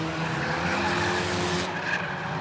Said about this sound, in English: the other 7 car has come into the pits as well